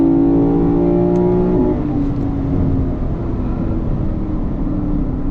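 A 2024 Lexus IS500 V8 engine revs under load with steady harmonic tones, then pitch drops as a gear changes, loud and close from inside the cabin.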